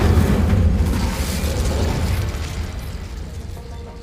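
A fire spell cast in the Hogwarts Legacy video game: a loud, deep whooshing burst at the start that rumbles on and slowly fades over a few seconds, with no talking.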